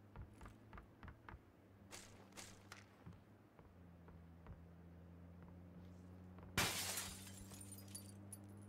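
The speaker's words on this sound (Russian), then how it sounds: "Разбивает окна" Glass shatters loudly as windows are broken in a video game, midway through a stretch of clicking mechanical noises and a low steady hum, with sharp scattered bits before the crash.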